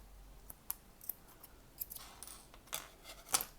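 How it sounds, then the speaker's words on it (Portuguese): Scissors snip through craft material for a sunflower-shaped napkin holder, a series of short, crisp cuts at an irregular pace, close and fairly quiet, with no talk. "Vou só cortar aqui."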